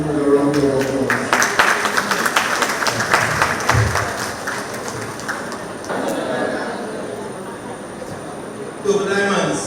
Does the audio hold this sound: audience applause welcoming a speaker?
yes